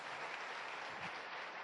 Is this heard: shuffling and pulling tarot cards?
no